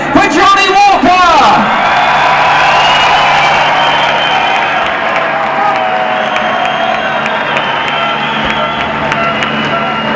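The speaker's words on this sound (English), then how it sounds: "please a massive cheer for Johnny Walker!" A packed indoor arena crowd at a Super Enduro motorcycle championship final in Newcastle roars and cheers loudly for rider Johnny Walker, with whoops and shouting sustained throughout after an announcer's voice at the start.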